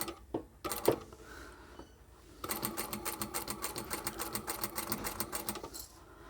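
A sewing machine stitches a sleep mask slowly around a curve along the edge of the stabilizer at a short stitch length. A few short bursts come first, then a steady, close, rapid run of stitching.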